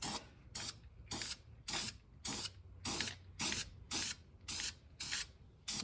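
Black chassis paint hisses from a spray can onto a Chevy chassis part in about a dozen short, evenly spaced bursts, close and clear, with no talking.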